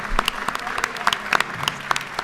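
Applause in the Georgia House chamber welcomes visiting students during a special session: brisk, dense clapping from many hands, close and lively throughout, with no talk over it.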